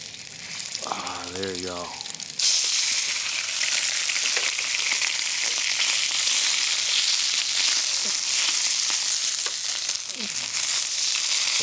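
A thin New York strip steak set fat side down in a hot pan bursts into a loud, steady sizzle that runs on without a break, after a brief spoken remark at the start.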